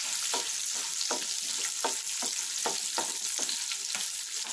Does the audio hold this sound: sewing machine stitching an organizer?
no